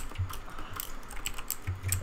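Keys clack on a computer keyboard in a quick, uneven run of soft, close taps at moderate loudness, with no voices.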